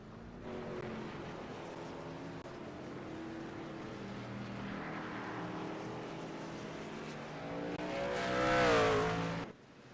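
Race trucks roaring around the Watkins Glen road course in an ORRL sim racing game, a steady layered engine drone from several trucks that swells near the end as one passes close with a rising, revving whine.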